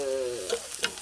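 Chopped scallions sizzle steadily in a pan of oil over medium heat as they are stir-fried toward golden to make scallion oil. A few soft scraping taps from the stirring break through the sizzle, and no one speaks.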